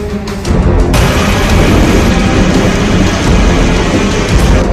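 Heavy rain in Rajasthan pours down in a loud, dense, continuous roar close by, with a deep rumble underneath.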